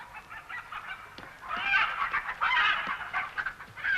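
A chicken clucking and squawking in a film excerpt, starting soft, then growing louder and busier in the second half, with no talk.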